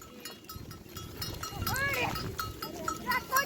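Goats bleating on a hillside in Islamabad, several wavering calls rising over a rough outdoor background, with a murmur of voices and rustling nearby.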